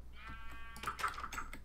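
A single sheep in a video game gives one clear wavering bleat lasting about a second, close and moderately loud over a faint background.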